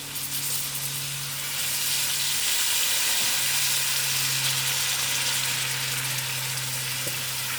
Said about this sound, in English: Now I'll add in my potatoes to actually get fried out and colored with my masala.